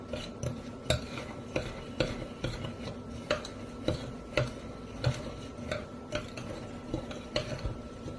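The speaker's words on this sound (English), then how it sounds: "mix all these together, or I'll just use the spoon" A spoon stirs four bird suet ingredients together in a bowl, giving a steady run of soft clinks and scrapes at close range with no talking.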